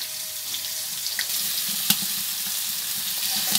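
Rohu fish pieces fry in hot oil with a steady broadband sizzle throughout, broken by a few faint clinks and small pops, close and with no one speaking.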